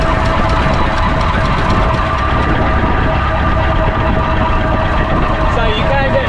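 Foden C Type truck on the move, a loud, steady low engine drone with a rough mechanical rattle running throughout, someone talking over it.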